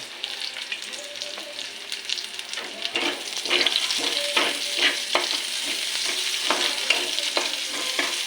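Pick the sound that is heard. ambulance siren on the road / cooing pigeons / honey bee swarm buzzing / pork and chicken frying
pork and chicken frying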